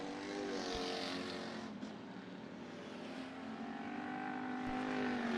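Race cars at Bakersfield Speedway during the Budweiser Nationals heats run down the back straightaway, engine notes rising and sliding in pitch as they pass at middle distance, a steady roar with slight swells.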